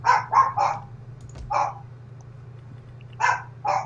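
Dogs bark nearby in quick clusters of sharp yaps, with a gap of quiet hum between bursts and no one speaking.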